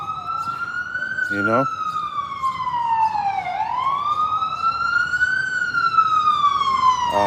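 Emergency vehicle sirens wailing nearby, a loud continuous swooping tone rising and falling, with someone briefly talking over it.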